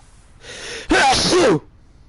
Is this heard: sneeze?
yes